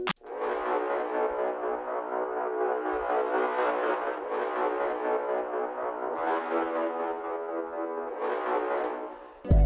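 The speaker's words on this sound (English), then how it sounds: "I'm adding this tuba" A tuba patch from a Kontakt library plays a slow, loud, sustained low melody of long brassy notes, heard alone without voices.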